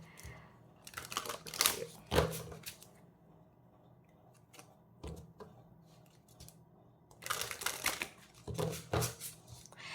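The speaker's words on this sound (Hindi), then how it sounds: "तो सबसे पहले हम कार्ड शफल कर लेते हैं" Tarot cards are shuffled in quick papery bursts, a flurry early on, a short riffle in the middle and another flurry near the end, close and crisp against a quiet room.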